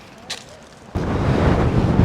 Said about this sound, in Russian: Правда, ветреная очень сильно.